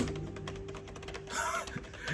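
Quick clattery key taps on a compact iPad folio keyboard, a rapid run of light clicks with a faint steady hum underneath.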